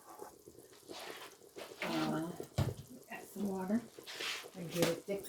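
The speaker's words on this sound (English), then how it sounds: "And add a little water to it." Water poured from a cup into gravy simmering in a pan while cooking Salisbury steak, soft splashing and bubbling in irregular bursts, with a person talking over it.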